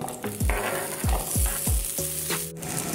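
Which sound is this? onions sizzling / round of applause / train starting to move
onions sizzling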